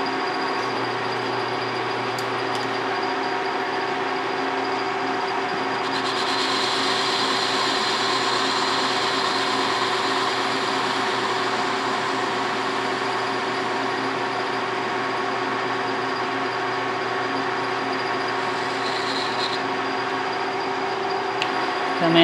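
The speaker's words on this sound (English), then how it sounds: "This is 375 RPM. Just gonna face this off super quick." A metal lathe spins at 375 RPM while facing off a part, producing a steady, unbroken mechanical hum and whine. The sound holds at an even level throughout and stands alone.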